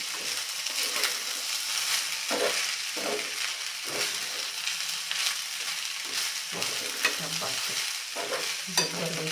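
Grated fresh coconut is stirred into lemon rice (chitranna) in a pan over the heat, giving a steady close scraping and soft frying hiss with repeated spatula strokes throughout, with no voices.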